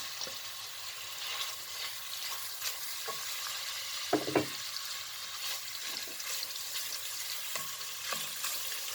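Minced meat fries in melted butter in a pan, a steady close sizzle broken by the scrape and clack of stirring, with a few sharper knocks midway.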